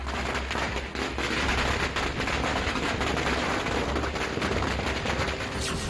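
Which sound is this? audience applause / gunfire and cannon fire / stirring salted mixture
gunfire and cannon fire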